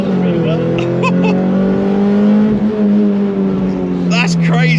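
A Toyota Celica GT-Four on the road drones with a loud, steady exhaust note heard from inside the cabin. The pitch holds fairly constant under continuous conversation.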